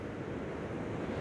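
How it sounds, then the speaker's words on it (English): Strong wind blows on a beach in Bandon, Oregon, a dense, steady roar buffeting the microphone and mixing with surf throughout the short stretch, with no talk. "Because it's so windy out here"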